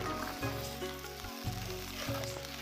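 Vegetables tipped into a pan of ground cumin and home-ground spice paste and stirred: a steady, dense sizzle with a brief dropout partway through, close and fairly loud, with no voices.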